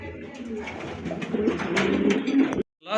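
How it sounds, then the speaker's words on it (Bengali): A pair of Danish pigeons coo close by in soft, repeated throaty rolls, with faint background chatter before the sound cuts off abruptly near the end. "প্রথমে এক জোড়া ড্যানিশ কবুতর দেখতে ভাই পাচ্ছেন।"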